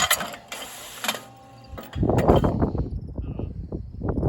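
A MEC Wobble Trap clay target thrower is cocked and loaded outdoors, giving a loud burst of close mechanical clanking and ratcheting after a few sharper knocks.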